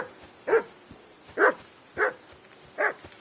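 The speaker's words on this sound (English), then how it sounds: "I assume you can hear that damn dog of yours barking." A dog barks in the video game Kingdom Come Deliverance 2, four evenly spaced single barks at moderate loudness over a quiet background.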